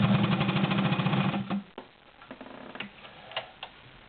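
A Morse Super Dial straight stitch sewing machine sewing through many layers of cotton, with a fast steady mechanical ticking and whirring that runs loud for about a second and a half, then stops into a few quiet clicks.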